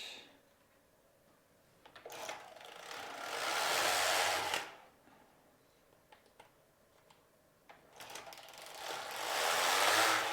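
A Passap Duomatic 80 knitting machine working a child's sweater makes two long rasping, whooshing carriage passes, each a few seconds long, with quiet mechanical clicks and ticks between them.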